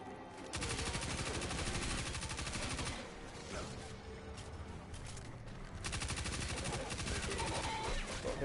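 SMG hip fire in Destiny 2, long sustained bursts of rapid automatic shots with a short pause between volleys, loud, dense and close.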